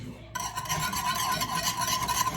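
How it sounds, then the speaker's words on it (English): Butter is whisked into hollandaise sauce in a bowl off the heat. After a brief quiet start there is a steady, close scraping and swishing of the whisk, continuous and fairly loud with no voices. "it says to make sure you keep whisking"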